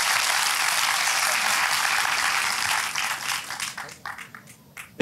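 A crowd applauds at the award night of an international short film competition in Sultanbeyli, a dense, loud wash of clapping that holds steady, then thins out into scattered individual claps toward the end.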